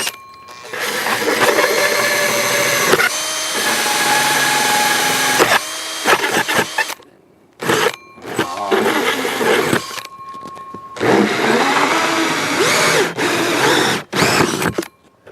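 A power drill runs in several bursts, whining and grinding as a 2.5 to 3-inch hole saw cuts through plastic, with short pauses between each run.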